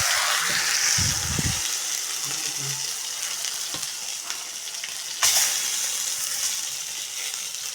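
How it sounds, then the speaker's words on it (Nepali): Horse gram (gahat) fries in a pan outdoors in the forest at Tare Parvat, giving a steady close sizzle. Occasional stirring scrapes and a sharp clack of the utensil cut through it partway. "म गरिला गहटा भुट्छु"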